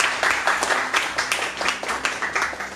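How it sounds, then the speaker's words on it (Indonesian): Audience applause at a sendoff ceremony for East Java Perisai Diri martial arts fighters heading to an international championship in Lombok, a steady, dense patter of many hands clapping at moderate distance throughout. "Tepuk tangan untuk kita semuanya."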